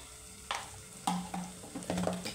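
A spoon stirs pasta masala in a pan with green chillies, chilli powder and garam masala, giving a few separate scraping strokes with soft sizzling between them. Each stroke is close and fairly loud, and no one speaks.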